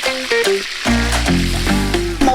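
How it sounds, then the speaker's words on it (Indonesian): Tempeh frying in homemade coconut oil in a home kitchen, a loud, close, continuous sizzle and crackle, with a faint tonal ringing mixed in and no voices. "Sekarang emak mau cobain goreng tempe pakai minyak kelapa."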